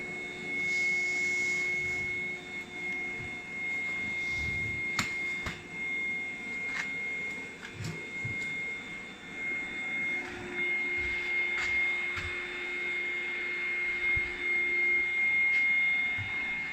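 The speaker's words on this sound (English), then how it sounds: "you can see, it's inflating fairly quickly, and I've set it to the firmest setting" Electric pump inflating Outwell inflatable camping furniture, a steady whirring drone with a faint high whine running throughout, broken by scattered small knocks and rustles nearby.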